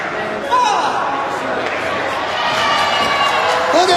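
A wrestling crowd cheers and roars steadily throughout, a broad, loud wash of voices with occasional whistles, under a commentator's talk.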